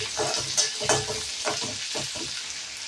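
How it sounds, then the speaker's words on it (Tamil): Onions sautéing in hot oil with garlic for a pepper garlic curry, a bright continuous sizzle broken by frequent close stirring scrapes in a quick uneven rhythm, no voices. "இது கூட வெங்காயத்தை போட்டுடணும். வெங்காயம் நல்லா வதங்கணும்."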